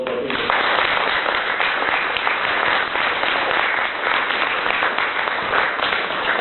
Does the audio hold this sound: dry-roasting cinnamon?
no